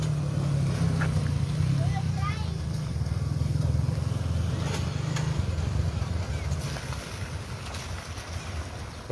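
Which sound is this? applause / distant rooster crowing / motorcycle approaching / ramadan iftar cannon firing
motorcycle approaching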